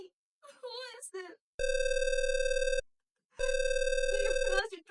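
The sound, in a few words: telephone ringing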